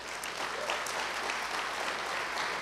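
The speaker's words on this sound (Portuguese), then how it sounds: "Eu quero pedir um aplauso carinhoso para essa equipe." A theatre audience at a concert applauds warmly for a team, with continuous dense clapping of many hands at a moderate, steady level and no talk over it.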